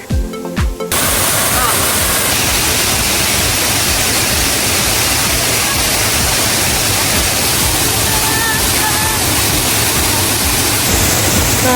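Cambanog Falls in Dumanjug, Cebu, roars as a loud, steady rush of falling water that stays constant and broadband throughout, with voices briefly audible at the very start.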